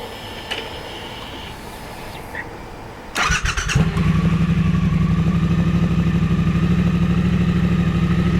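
A British Customs Predator Pro Shorty 2.0 exhaust on a motorcycle: the engine cranks and catches, then settles into a steady, loud, rumbling idle that continues to the end with no other sounds.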